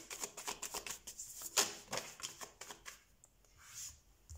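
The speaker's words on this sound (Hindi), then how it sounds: "ओके तो हम कार्ड शफल कर लेते हैं।" Tarot cards being shuffled by hand, a quick series of crisp riffling flicks and slaps close up and fairly quiet, fading to softer card sounds toward the end.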